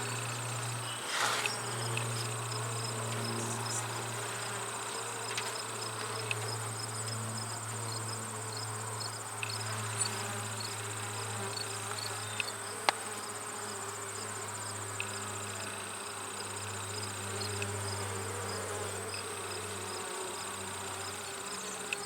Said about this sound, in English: Nice drones, nice nurse bees.